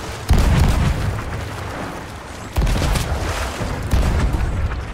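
Ship cannons fire in the pirate game Sea of Thieves, three heavy booming shots with a rumbling tail, one at the start, one mid-way and one near the end, loud with no talking.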